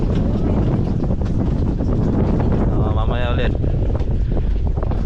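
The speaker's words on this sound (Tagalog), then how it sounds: "Ang nakaka-relax yung hangin." Wind gusts and rumbles against the microphone outdoors beneath a tree, a steady buffeting that runs throughout under a person's talk.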